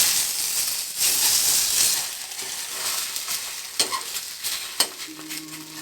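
French toast sizzles and fries in a hot pan, a steady bright hiss throughout with a few soft clicks and scrapes near the end; no one speaks.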